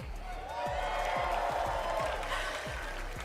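An esports crowd at the Fortnite FNCS 2023 Global Championship in Copenhagen cheers and roars in a large arena, a steady wash of voices punctuated by rhythmic thumping claps or stomps.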